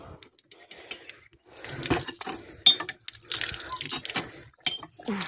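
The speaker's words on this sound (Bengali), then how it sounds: "এই যে কল থেকে দেখি আমি পাম্প করে দিচ্ছি।" Water gushes from a village hand-pump tap in the Sundarbans, splashing and running in uneven bursts as it is pumped, fairly close, with a brief voice in the background.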